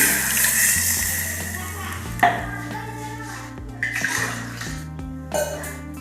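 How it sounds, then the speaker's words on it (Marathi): A glass of water pours steadily into a pan of fish curry, with a faint rushing splash, a few clinks of cookware along the way, and a voice speaking over it. "यामध्ये 1 ग्लास पाणी घालते."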